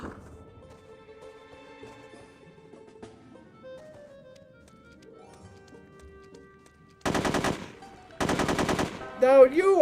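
Gunfire in the PC spy shooter No One Lives Forever 2 arrives as two loud, dense bursts near the end, after a quiet stretch of soft game tones and music.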